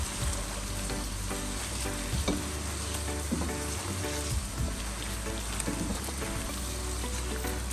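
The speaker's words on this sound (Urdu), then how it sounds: "تو اس کو آپ نے اسی گھی میں 20 منٹ کے لیے پکانا ہے، چمچ ہلاتے رہنا ہے آپ نے۔" Beef for nihari fries in ghee over a medium flame while a spoon stirs it, a dense continuous sizzle with scraping and clinks of the spoon close by.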